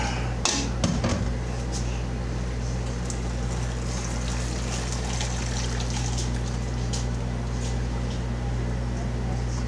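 Water from a cooking pot is poured into a can, making a faint, steady pouring and trickling sound that runs throughout, with a couple of brief knocks near the start.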